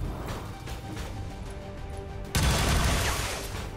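Gunfire in XCOM 2: War of the Chosen: a sudden loud burst of shots cuts in partway through over a busy, noisy game soundscape.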